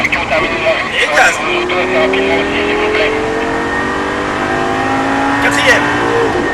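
A Lamborghini engine on a race track rises in pitch through long accelerating sweeps, with tonal engine harmonics climbing steadily while an instructor talks over it.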